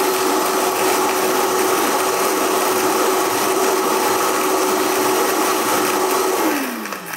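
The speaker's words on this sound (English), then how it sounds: "So let's give it another blend, huh?" A variable-speed blender crushes ice into a slushy Piña Verde cocktail, running as a loud, steady whir for several seconds before the motor winds down at the end. No one speaks.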